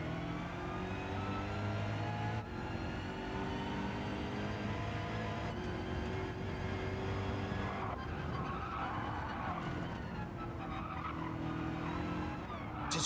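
GR3 race cars in the Gran Turismo 7 video game roar with a loud, continuous engine drone and tyre skidding that runs steadily throughout, with no voices.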